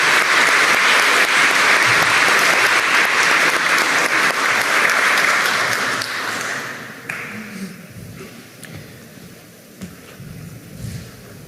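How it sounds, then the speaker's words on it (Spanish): A ceremony audience gives strong applause for a retired national police captain being decorated, a loud, sustained clapping that fades after about seven seconds into a quieter room with scattered sounds. "fuerte las palmas para el señor"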